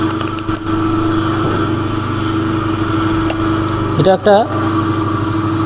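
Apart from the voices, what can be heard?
1 HP single-phase capacitor start induction motor running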